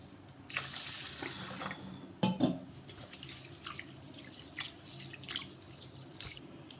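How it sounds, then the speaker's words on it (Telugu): Water splashing and trickling as it is poured off washed sago and fenugreek seeds into a sink, followed by scattered drips and small clinks, fairly close and quiet. "ఇలా నీళ్ళన్నీ కూడా వంపేసుకొని మరికొన్ని వాటర్ వేసేసుకుని"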